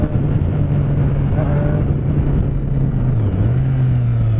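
Motorcycle engine running steadily at close range while riding, a loud continuous low drone whose pitch holds and then dips slightly near the end, with no talk.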